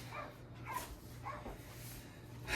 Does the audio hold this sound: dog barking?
yes